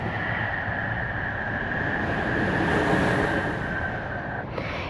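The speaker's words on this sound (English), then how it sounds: "Listen to the sound of the waves." Ocean waves washing onto the shore in Maui, a steady broadband roar of surf with a gentle swell in the middle, continuous and fairly close, with no voices.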